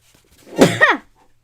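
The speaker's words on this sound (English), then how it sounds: "I'm gonna sneeze." One loud sneeze close to the microphone, a quick intake then a sharp explosive burst, with silence on either side.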